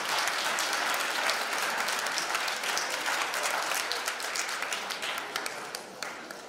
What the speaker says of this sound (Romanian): haideți să aplaudăm